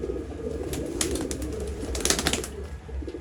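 A male and female pair of pigeons coo softly in low repeated murmurs, with a few faint wing rustles and some background noise. Nobody speaks.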